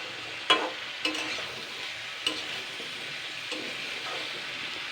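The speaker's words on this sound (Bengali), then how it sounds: "এবার আমি এগুলোকে সবগুলো একসঙ্গে নাড়াচাড়া করব।" Vegetables with onion and egg sizzle in a pan while being stirred, with a soft continuous fry and several distinct scraping knocks of the spatula at irregular intervals, close up and without speech.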